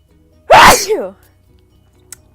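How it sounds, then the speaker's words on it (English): A single loud sneeze bursts out close by, sharp at the start and trailing off within a second, followed by near silence. "I gotta sneeze."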